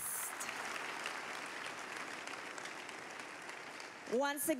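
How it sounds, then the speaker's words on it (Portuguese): Faint, steady applause from a church congregation during a sermon, a continuous wash of many hands clapping at a distance, with a voice breaking in near the end. "Vamos aplaudir a Jesus Cristo."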